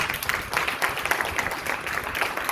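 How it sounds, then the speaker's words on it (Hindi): Applause from an audience in Hindi for the Panipat team seated at a JSM training event: steady, dense clapping across the whole stretch at moderate distance, with no clear talk over it. "मैंने उनके लिए बड़ी जोरदार तालियां हो जाए"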